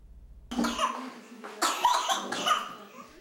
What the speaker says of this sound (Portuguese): vem enfrentando crises de tosse como essa há dias